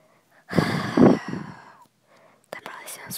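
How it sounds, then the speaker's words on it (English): A person breathes close to the microphone in a few heavy, breathy exhales, partly voiced like a whisper or sigh, ending in a brief airy burst. "That probably sounds weird, I'm just breathing."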